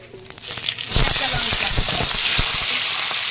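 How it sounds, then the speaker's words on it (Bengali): Nigella seeds (kalo jeera) crackle and sizzle in hot oil in a wok, a steady loud frying hiss with sharp popping bursts; a voice speaks in the background. "আবারও কড়াইতে তেল দিলাম এবারে এর মধ্যে একটু কালো জিরে দেবো"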